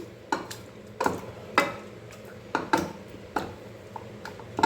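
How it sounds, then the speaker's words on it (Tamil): Green chillies being pounded with a wooden hand masher, a series of about eight separate dull knocks at an uneven pace, close up with quiet pauses between them. "இந்த பச்சை மிளகாய் எல்லாத்தையுமே நல்லா மசிச்சு விட்டுக்கலாம்"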